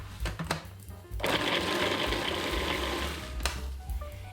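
Electric chopper whirring through onion, tomato, green and red peppers and garlic, a steady close motor buzz of about three seconds after a few short pulses.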